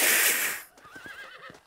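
A horse in Red Dead Redemption gives one wavering whinny, fairly near, after a burst of loud rushing noise, with hoof clops and scuffs around it.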